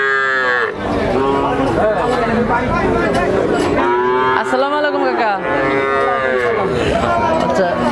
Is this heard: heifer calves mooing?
yes